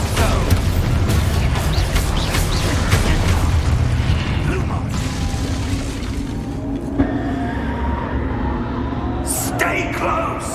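Exposo spell explosion during Hogwarts Legacy combat, a dense, loud, continuous roar of booms and crackling bursts that shifts in tone partway through, with a few sharp high crackles near the end.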